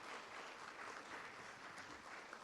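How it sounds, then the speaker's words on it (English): Faint, even applause fills a town government meeting room, a soft continuous patter from the gathered attendees with no voices over it. "give them an applause"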